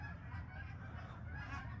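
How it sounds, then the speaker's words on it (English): Geese honking as they fly overhead, a steady chorus of repeated honks, faint and distant, with no talking. "These geese have been flying."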